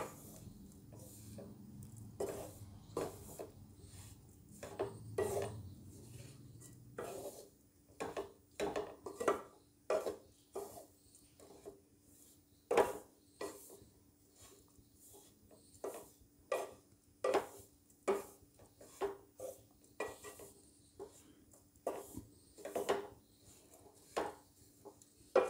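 A spatula repeatedly scrapes and taps as karanji filling ingredients are dry-roasted in a pan over a medium flame, in a faint, fairly regular rhythm with no talking.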